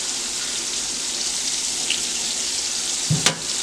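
Beef liver frying in a pan gives a steady, close hiss and crackle throughout, with a short sharper burst of spattering near the end.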